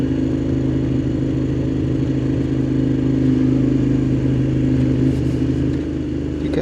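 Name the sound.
Moto Guzzi Griso motorcycle engine revving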